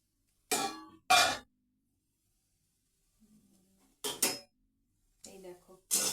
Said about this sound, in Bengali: এবার এই যে ঢাকা দিয়ে দিলাম।